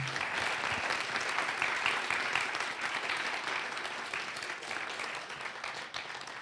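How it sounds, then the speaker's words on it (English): Sustained audience applause at a book event with authors, a steady wash of many hands clapping that slowly tapers over several seconds, no voices over it. "Let's give them a round of applause."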